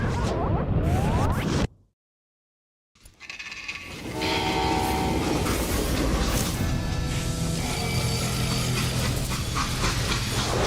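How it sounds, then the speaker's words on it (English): A freight train in the Western video game Call of Juarez: Gunslinger rumbles with a loud blaring horn and clattering wheels, broken by a brief silence before the steady rail noise returns and runs on. "how'd they stop this train in the first place?"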